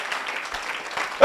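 A church congregation claps together during a sermon, a steady dense patter of many hands throughout, fairly loud and close, with a sudden louder burst at the very end.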